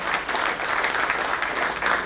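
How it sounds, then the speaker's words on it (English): An audience at a corporate award event applauds the team on stage in a dense, steady burst of clapping that stays close and even throughout. "a huge round of applause for the entire team standing here"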